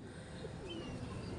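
Soft, low pigeon cooing from a pigeon club's bird, brief and fairly faint, with a light background hum.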